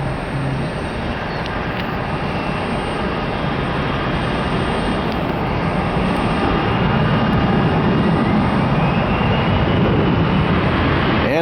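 Continuous loud roar of a passing airliner near Columbus airport, a steady broadband jet rumble that holds throughout with no voices over it.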